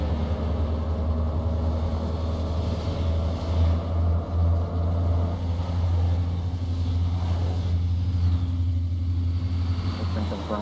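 Bus speeding along a toll road, a loud continuous low engine drone with steady road rumble throughout, heard from inside the cabin while people talk.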